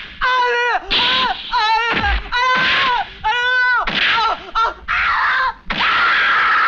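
A woman screams and wails repeatedly in loud, drawn-out bursts separated by short gaps, close and intense, in a dramatic police-station scene.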